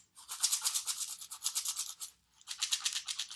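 A homemade kitchen shaker packed with dry oatmeal or rice is shaken in quick steady rhythm, a soft bright rattling hiss that pauses briefly before starting again, close and fairly quiet.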